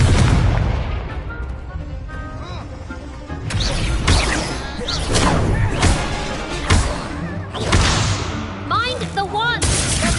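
A fire spell cast in Hogwarts Legacy combat on PS5: a run of loud, booming magical blasts and crashing impacts over roughly ten seconds, arriving in several bursts with brief lulls, mixed with game effects and voices.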